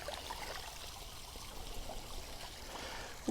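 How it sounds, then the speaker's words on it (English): A POPOSOAP solar fountain pump jets water straight up into a bird bath outdoors, giving a steady, continuous splashing trickle at low level with no speech. "So if you just want the water going straight up, let's see how far this goes."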